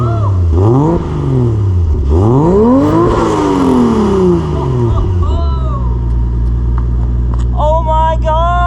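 A Toyota Supra Mk4 cranks and fires up, its engine revving in rising and falling sweeps up close before settling into a steady idle, while a person talks excitedly near the end.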